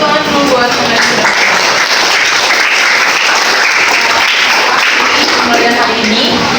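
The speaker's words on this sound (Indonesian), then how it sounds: "tepuk tangan dulu buat teman sudah" Loud, dense applause fills a classroom for fellow students, a steady wash of many hands clapping throughout with voices mixed in underneath.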